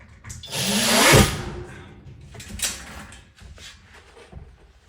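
A power drill drives screws into wood while a metal stud wall is being framed, giving a loud whirring burst and then shorter, quieter bursts of driving and handling noise.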